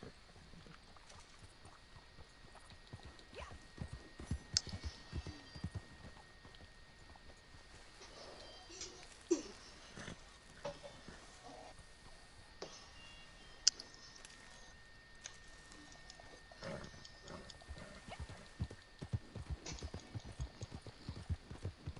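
Horse hooves clop at an uneven pace in Red Dead Redemption 2, the faint, scattered hits sitting over a quiet background hum.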